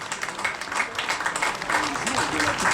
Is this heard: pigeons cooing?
no